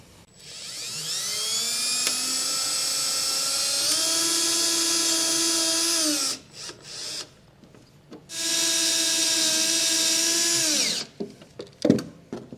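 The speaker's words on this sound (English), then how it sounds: "it's going to be a 1/4 inch socket to get these drilled in" A power driver with a 1/4 inch socket drives self-tapping screws on a 2020 GM truck, whining loudly at high speed for several seconds, stopping, then running again in a second long burst before a few clunks.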